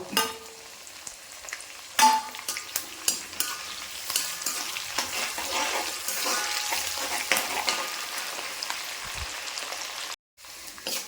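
Ginger and green chillies fry in sesame oil for a tomato pickle, making a loud, steady sizzle broken by repeated scraping stirs close by, then cutting out briefly near the end.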